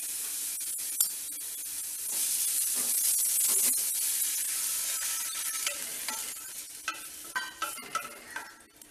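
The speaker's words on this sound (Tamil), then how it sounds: "எல்லா காயும் வதக்கையிலே வெந்துடும்." Chopped capsicum, carrot and peas sauté in a pan for homemade soup, giving a steady close hiss and sizzle with scattered stirring clicks and scrapes that sharpen toward the end, no voices.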